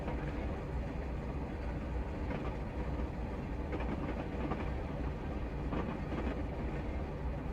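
Class 37 diesel locomotive in Train Simulator on a Leeds to Manchester run, a steady loud rolling rumble with a few faint clattering knocks as it runs over points.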